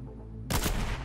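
Sudden burst of rapid gunfire in the video game Fortnite, a loud dense fusillade erupting after a quiet stretch and continuing to the end.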